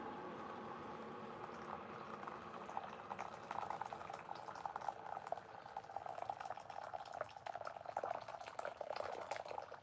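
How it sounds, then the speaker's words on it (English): Hot water bubbles at a steady rolling boil in a long shallow dish used for softening thin wood strips for bent wood rings, a continuous close simmering hiss with small pops and no talking. "That water should be hot enough."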